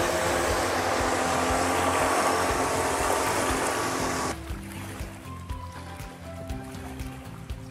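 A loud motorboat engine roars past on a river toward a port in northern Italy, with churning water, then drops away suddenly, leaving a quieter rumble and lapping water.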